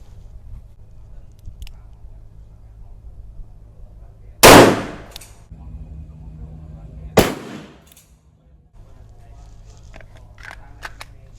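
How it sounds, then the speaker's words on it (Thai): Two sharp 9mm pistol reports ring out a few seconds apart at an outdoor firing range, each a loud crack with a short tail, against low background rumble and faint murmuring. "เดี๋ยวโมจะเป็นคนเริ่มยิงก่อนนะคะ ปืนโหลดเรียบร้อยแล้วนะคะไปเลย"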